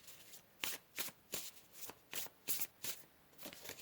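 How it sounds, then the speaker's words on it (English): Tarot cards shuffled and drawn nearby in a quiet room, about eight soft papery riffles and slides spaced in a loose, fairly even rhythm, with no one talking. "So let's pull a couple more cards here."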